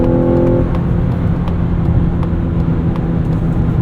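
A 2025 Mazda CX-90 Plug-in Hybrid's 2.5-liter engine drones and rises at full throttle in a loud, continuous accelerating roar heard from inside the cabin, with piped-in engine noise and steady road noise underneath.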